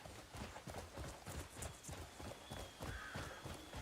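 Hooves beat in a quick, even rhythm from a horse moving through the open world of Crimson Desert, the clip-clop fairly close and steady with no talking.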